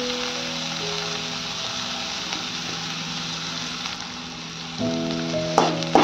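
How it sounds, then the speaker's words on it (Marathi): Green chili, onion and garlic sizzle steadily in a hot pan, a dense continuous frying hiss with a few louder crackles and scrapes near the end. "हे आपण याच्यात हिरवी मिरची, कांदा, लसूण टाकलेला आहे. ते आपण व्यवस्थित भाजून घेऊया."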